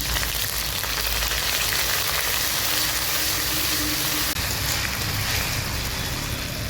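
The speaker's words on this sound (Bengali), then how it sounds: "দিচ্ছি রাঁধুনি আর দিয়ে দিচ্ছি আদা বাটা।" Radhuni spice and ginger paste sizzle steadily in hot oil for a vegetarian shukto, a dense, continuous frying hiss close up with no talking.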